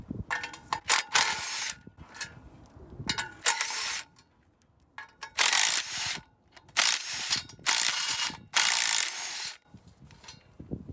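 A 1/2 inch ratchet works loose the engine fan on a 1958 Dodge Power Wagon V8, giving bursts of loud, rapid clicking strokes separated by short pauses, close up with no talk.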